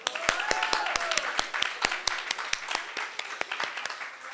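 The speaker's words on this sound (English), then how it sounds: "Can we just give it a round of applause for this amazing morning already?" A small crowd claps in scattered applause that fades toward the end, with a few voices mixed in.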